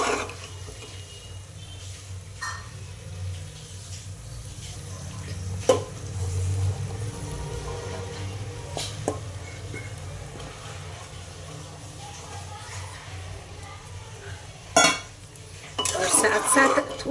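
Boiled chickpeas go into a pan of fried masala and are stirred, with soft scraping and a few sharp knocks of a spoon on metal over a low, steady background hiss.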